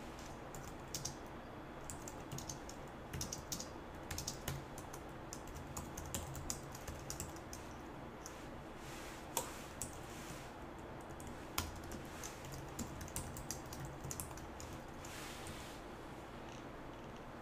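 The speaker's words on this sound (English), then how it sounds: "let me go ahead and start typing in the example here" Steady clicking of fingers typing code on a computer keyboard, close and fairly quiet, with irregular bursts of keystrokes running throughout and no talking.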